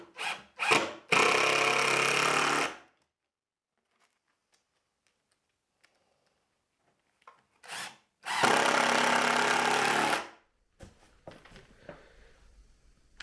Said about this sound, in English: we'll get screws set, nice stainless steel screws set, and that'll hold it in position